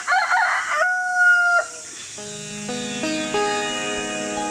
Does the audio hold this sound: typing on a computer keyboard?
no